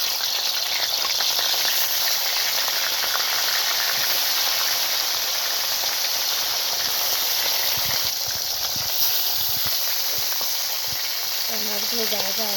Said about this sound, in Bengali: গাইস কড়াইটা গরম হয়ে গেছে, মাছ ভাজার জন্য তেল দিয়ে দেব।